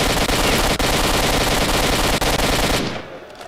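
Rapid machine gun fire in the video game S.T.A.L.K.E.R.: Shadow of Chernobyl, a dense, continuous burst lasting nearly three seconds, then trailing off into a fading echo.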